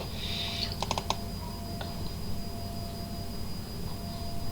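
A wrong PIN is typed on a computer keyboard to unlock an admin tool panel. A brief cluster of three or four key taps is followed by one more tap, all faint beneath a constant steady hum.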